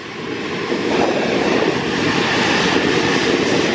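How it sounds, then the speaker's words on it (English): An Embraer jet passes close by at Luton Airport on a summer evening, its engine roar broad and loud, swelling slightly and holding steady without any voices. "I think this one's an Embraer."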